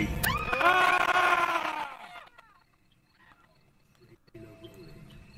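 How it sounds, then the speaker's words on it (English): Several players scream together at full volume for about two seconds during a Phasmophobia ghost-hunting game, a loud, harsh, sustained burst that cuts off abruptly into near silence followed by faint background noise. "You must all scream as loud as you can"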